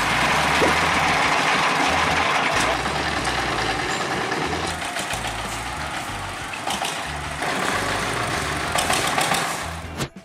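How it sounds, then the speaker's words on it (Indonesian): Farm tractor engine used as public transport in Myanmar, a loud, close diesel chugging with a steady low rhythmic thump and mechanical clatter throughout, no voices. "Di sana, traktor sawah justru dijadikan sebagai transportasi umum oleh warganya."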